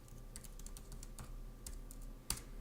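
Quiet, steady typing on a computer keyboard, with irregular clicky keystrokes spread across the clip and one sharper key press near the end.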